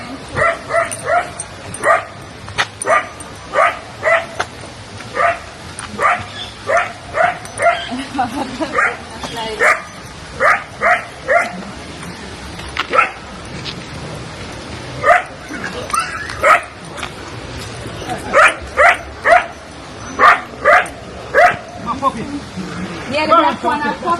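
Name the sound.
puppy barking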